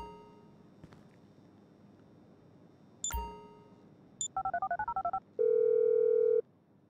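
GTA 5 phone dialing in a video game: a rapid run of about a dozen short keypad tones, then a steady held dial tone lasting around a second, over a low game background with a couple of brief chimes before.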